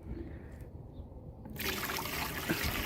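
Warm water pours into a plastic container as part of a home physics experiment, a quiet trickle at first that swells into a steady, fuller splashing pour for the rest of the moment.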